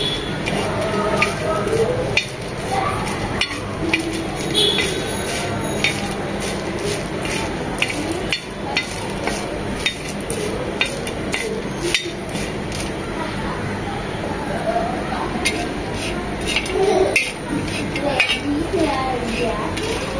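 Whole spices for garam masala dry-roast in a pan over very low heat, with a metal utensil scraping and clinking against the pan in steady repeated strokes for the whole stretch.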